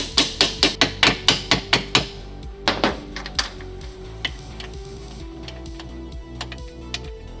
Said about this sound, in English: So I gotta get this aligned here and tap this into place and then get these bolts started.